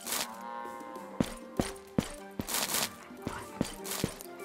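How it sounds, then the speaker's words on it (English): Cattle lowing in the Animal Rescuer farm video game, several loud, drawn-out moos repeating alongside sharp thumping knocks, with a faint voice underneath. "Those cows are probably in trouble."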